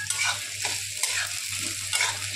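Sliced onion sizzles and crackles in a generous pool of hot oil for a chicken and mutton curry, a steady close frying hiss with a few louder stirring scrapes and a low hum beneath, no voices.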